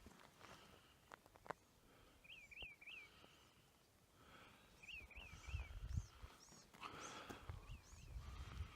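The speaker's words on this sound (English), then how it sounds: "Can you hear the birds?" Repeated bird calls ring out in short chirping phrases outdoors during a walk with a dog, coming in a few bursts over soft footsteps and background noise.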